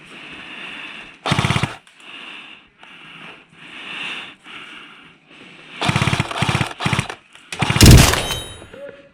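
Bursts of P90 submachine gun fire in a video game. Rapid automatic volleys come in short and longer strings over a quieter game backdrop, with the loudest burst near the end.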